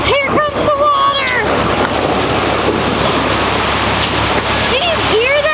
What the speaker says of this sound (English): Do you hear that? It's so loud. That's a lot of water pressure.